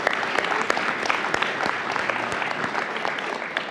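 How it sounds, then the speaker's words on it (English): Applause from the audience at a school board meeting honoring BPA students, a steady, dense clapping that fills the room for several seconds at moderate loudness with no pause. "so we should give them another round of applause"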